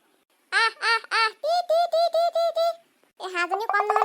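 A duck quacks in a rapid series of loud, close, nasal calls, several bursts in a row, with a short pause before more squawking resumes.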